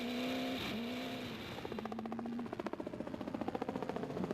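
Race cars in the 2013 Gold 400 race pass close by, a steady engine drone giving way to a rapid pulsing roar that swells and grows louder toward the end.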